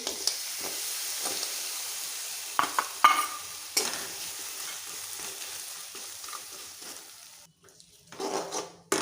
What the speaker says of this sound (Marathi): गुळ एकसारखा हलवत राहायचा पूर्ण वितळीपर्यंत